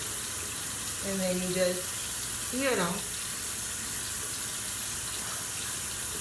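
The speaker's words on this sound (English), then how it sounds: "So you just gonna rinse off the rag." Water from a tap runs steadily while a rag is rinsed under it after soap use, a continuous hiss and splash with a person speaking briefly over it.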